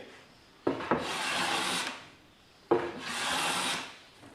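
A hand plane shaves bird's eye hard maple in two long, close strokes, each starting with a sharp catch and settling into a smooth rasping hiss, with a quiet pause between them.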